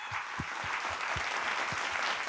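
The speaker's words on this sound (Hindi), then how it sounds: "बहुत जोरदार ताली बजा के उनका स्वागत हो" A live audience applauds in welcome of honored guests at a Varanasi event in Uttar Pradesh, with steady dense clapping throughout, loud and close, and no voices over it.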